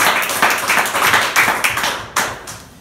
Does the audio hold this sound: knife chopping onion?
no